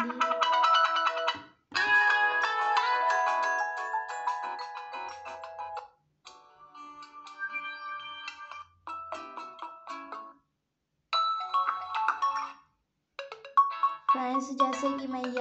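A ringtone melody plays on a Gionee Max mobile phone in repeated tonal phrases with short gaps between bursts, fairly loud and clear, running alone throughout.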